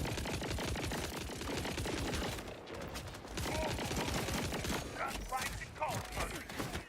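Rapid automatic gunfire from a Borderlands 4 gun battle, dense loud bursts of shots running almost without pause, with brief lulls, under occasional voices.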